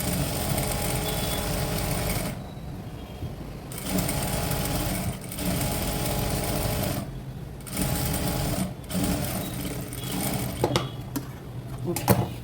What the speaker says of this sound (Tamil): இப்படி ஸ்டிச் பண்ண போகிறோம்